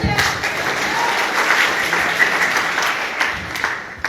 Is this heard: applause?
yes